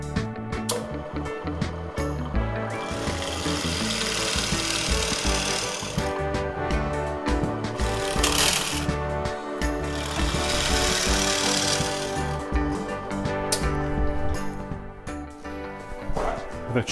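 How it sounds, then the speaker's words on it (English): A drill bores ventilation holes in an electronics enclosure near its processor, a continuous loud, close-up grinding rattle lasting throughout. "So what we'll do is put a couple of holes in here to let the heat out."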